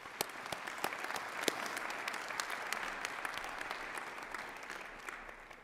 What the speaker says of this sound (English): I'd like to still give her a round of applause.